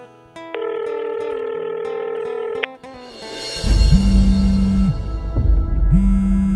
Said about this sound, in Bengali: একবার ফোনটা করে দেখি।